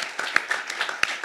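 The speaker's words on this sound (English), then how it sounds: "give yourselves a round of applause for being here and being engaged" Audience at a district attorney candidate forum clapping, a sparse scattering of individual claps from a small crowd, moderately loud and brief with no talk.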